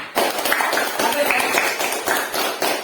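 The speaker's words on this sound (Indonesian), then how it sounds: "kita beri aplaus tepuk tangan untuk kelompok singa" A classroom of students claps for the lion group, steady overlapping hand claps throughout, fairly close and moderately loud, with no voices over them.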